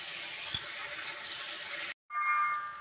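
A little water is poured into a pan of eggplant for a sour chutney, a steady splashing trickle lasting about two seconds that stops briefly and then resumes.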